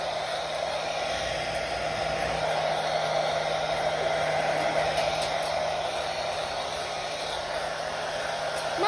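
A hair dryer roars steadily and loudly at close range as it blow-dries a Moluccan cockatoo after its shower, a continuous airy whoosh with no break for the full length.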